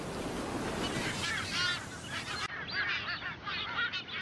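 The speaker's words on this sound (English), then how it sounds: "Sailors nicknamed them bosun birds because their calls sound like a bosun's whistle" White-tailed tropicbirds, known as bosun birds, calling on a remote Atlantic island: repeated shrill harsh calls from several birds over a constant roar of surf, carrying on throughout.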